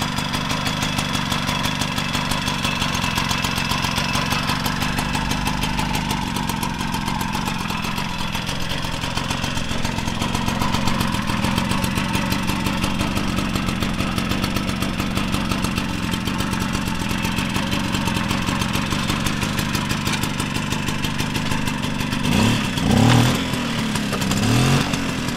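A 1972 Mobylette 50cc moped engine runs steadily after start-up, with a continuous buzzing two-stroke idle held close and loud for the whole stretch. Near the end there is a brief rise and a sputter.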